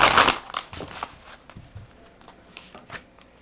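A tarot card deck is shuffled in a few quick riffling bursts: one loud burst first, then softer ones spaced through the rest, close up, with no talking.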